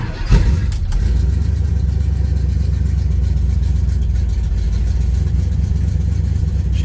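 A 1965 Chevelle with a big roller cam fires up from cold: a brief cranking burst, then a loud, steady, lumpy idle that thumps on without letup, close to the microphone.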